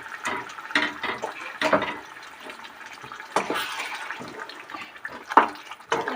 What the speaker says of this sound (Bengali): তো আমরা এবার এর মধ্যে একটু জল অ্যাড করবো